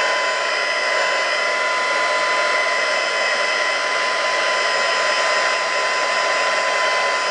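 A heat tool blows steadily and loudly while drying ink on an acetate card for a metallic gold triple-layer card, a continuous even whirring rush with no talking.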